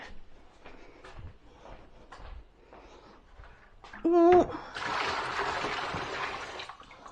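Water runs into a sink with a steady rushing spray for a couple of seconds, after a stretch of quiet handling noises and a short squeaky burst.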